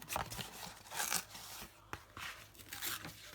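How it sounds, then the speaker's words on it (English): Cardboard being torn by hand, several close ripping bursts with pauses between them, sometimes rough and crinkly, without talk. "I'm going to tear it"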